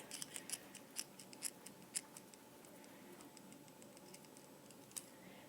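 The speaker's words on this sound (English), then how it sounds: "So I'm going to erase this." Eraser rubbing quickly over written trigonometry work on paper, a run of soft, close scratchy strokes in an irregular rhythm, faint and alone with no talking.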